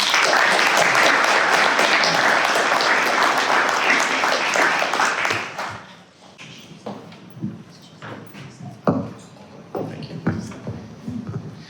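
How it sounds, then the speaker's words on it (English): An audience applauds panelists walking onto a stage, with dense steady clapping for about five seconds that then thins to scattered claps, shuffling and small noises. "Please give them a round of applause."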